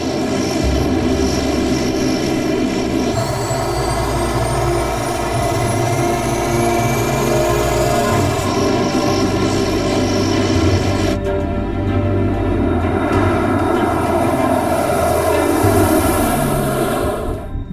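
A Lockheed Electra propeller airliner takes off from Yellowknife, its engines a loud, steady roar with droning propeller tones and a rising whine, powering up and holding full thrust throughout.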